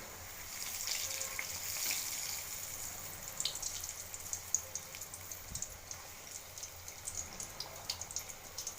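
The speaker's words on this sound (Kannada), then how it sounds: "ಎಣ್ಣೆ ಕಾದ ನಂತರ ನಿಪ್ಪಟ್ಟನ್ನು ಹಾಕಿ ಒಂದೊಂದೇ ನಿಪ್ಪಟ್ಟು ಕರಿಬೇಕು" Nippattu rice crackers fry in hot oil, dropped in one at a time, giving a steady bright sizzle with crackling pops that grow more distinct and spaced toward the end; no one speaks.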